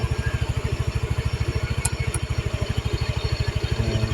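A motorcycle engine idles close by with a steady, even putter of rapid pulses, loud and unbroken, and a couple of faint clicks partway through.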